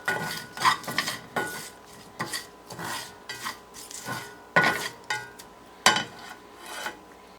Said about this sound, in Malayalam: എന്നിട്ട് ഇത് നന്നായി മിക്സ് ചെയ്യാം കേട്ടോ